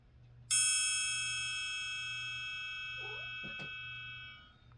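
A mid-size metal triangle is struck once and rings with a bright, shimmering sustained tone that decays slowly over several seconds before being damped, with a faint low hum underneath and a brief soft noise near the end.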